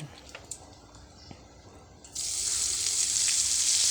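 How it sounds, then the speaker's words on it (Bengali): Bay leaf and chopped onion hit hot oil left over from frying duck eggs; after a quiet stretch with a few light clicks, a sudden loud, bright sizzle bursts out and keeps going. "এই তেলের মধ্যেই আমি দিয়ে দিচ্ছি তেজপাতা ফোড়ন আর দিয়ে দেবো কুচনো পেঁয়াজ"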